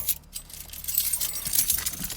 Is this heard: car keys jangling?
yes